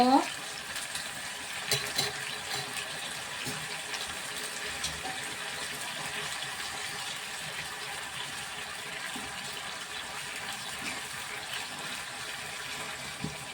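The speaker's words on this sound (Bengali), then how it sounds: "ভালো করে নেড়ে নেব" Gourd kofta curry is stirred in a pan while it sizzles softly, a faint, steady hiss with occasional scraping and bubbling, close by and quiet, with no voices.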